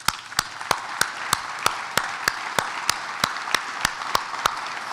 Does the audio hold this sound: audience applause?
yes